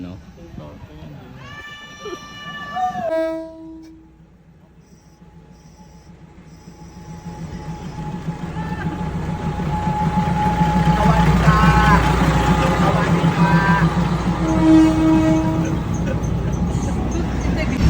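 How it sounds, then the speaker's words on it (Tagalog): A train rumbles slowly through the Mae Klong railway market in Thailand, a horn blaring near the start, then a long steady rolling roar of wheels and cars while people chatter and exclaim over it. "Ayan, andito na yung train, patapos na."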